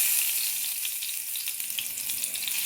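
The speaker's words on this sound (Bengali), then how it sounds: "ফ্রাইং প্যানে দিয়ে দিবেন। আশা করি গরম হয়ে গেছে।" Fish frying in a hot frying pan, a steady bright sizzle with scattered small crackles and pops, close and continuous with no talking.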